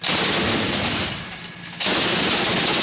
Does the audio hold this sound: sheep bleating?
no